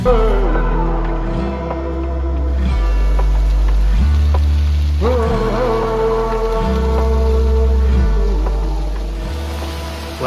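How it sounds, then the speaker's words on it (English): Heavy rain pours on a campground at Killbear Provincial Park, a steady, dense wash of drops that lasts throughout, with deep low tones beneath it. "It has been pouring all morning."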